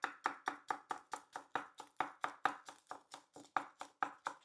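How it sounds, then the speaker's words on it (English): Knife chopping green onions on a cutting board, a fast, even run of crisp taps, about four per second, close and clear with no talk. "And when you're cutting the green onions,"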